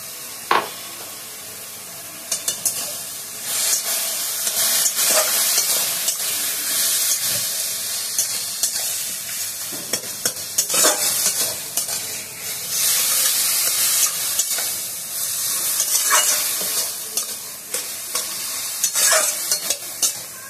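Ginger, green chili and garlic being stir-fried in a pan, giving a continuous bright hiss of frying broken by repeated scraping stir strokes, close and fairly loud for the full stretch, without any voice.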